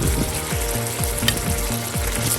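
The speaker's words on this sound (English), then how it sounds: "Now we're gonna add all our cutlets, nice and gentle." Cod cutlets slid into a hot pan with garlic and tomatoes give a steady, close sizzle, with a low rhythmic rasp repeating beneath the frying hiss.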